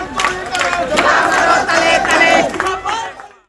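A crowd of local residents chants and shouts loudly in unison at a broom procession protest on a roadside in Rupganj, rhythmic massed voices rising and falling before fading out at the end.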